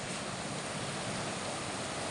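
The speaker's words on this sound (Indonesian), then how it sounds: "Bahkan sampai sekarang pun airnya masih deras sekali" Fast flash-flood water rushes down a river fed from the slopes of Gunung Pandan in Gondang, Bojonegoro, a continuous loud roaring wash with no break.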